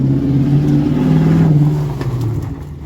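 A straight-piped V8 Toyota Sequoia revving nearby, a loud, raspy deep roar that holds and rises briefly before easing off toward the end.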